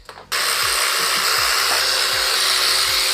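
A power tool, likely an impact driver, runs in one steady, loud, near burst lasting about three seconds while backing out 8mm bolts holding a magneto cooling fan on a magneto cover, with faint repeating thuds beneath the whine.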